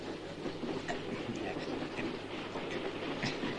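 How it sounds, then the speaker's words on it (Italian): A train rolling along rails, with steady rumbling and faint rhythmic clickety-clack of wheels over track joints, a continuous moderate-level ride heard from inside or near the carriage. "finché il treno arriva a destinazione"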